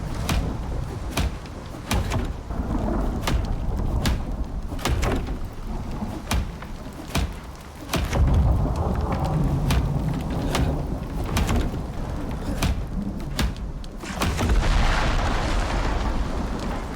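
Thunderstorm in the survival video game Icarus, steady rain hiss with repeated sharp thunder cracks and deep rumbles scattered throughout, loud and close, with a heavier downpour surge midway.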